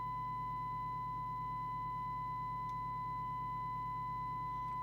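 A steady, pure electronic sine-wave test tone from a CB radio being serviced holds constantly over a faint low hum, unchanging from start to finish.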